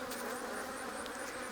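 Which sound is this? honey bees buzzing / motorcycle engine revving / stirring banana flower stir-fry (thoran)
honey bees buzzing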